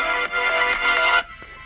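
A ringtone plays loudly from the speaker of a FOSSiBOT F109 5G phone, then turns abruptly muffled and quieter as a finger covers the speaker grille.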